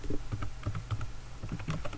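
A computer keyboard typed on steadily for a couple of seconds, with soft, rapid close-up key taps in an uneven rhythm.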